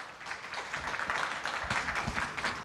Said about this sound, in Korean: 귀한 시간을 내주신 이경수 본부장님께 큰 박수로 맞이해 주시면 감사하겠습니다.